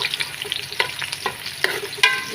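Onions, tomatoes and cinnamon bark are stir-fried in a pan, making a close, bright sizzle with quick bursts of spatula scraping and tossing and no speech.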